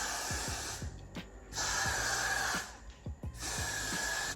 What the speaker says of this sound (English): I'm gonna spray a little of this.